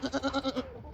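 Goats bleat in a rapid series of six wavering calls close by, then the bleating trails off into quiet farmyard background.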